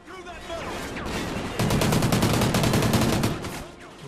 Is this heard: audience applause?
no